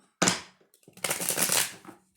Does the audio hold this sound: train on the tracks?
no